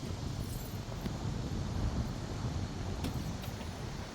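A 1966 Chevelle with a shed-built engine idles steadily at close range, a continuous low rumble with wind buffeting the microphone and no talk over it.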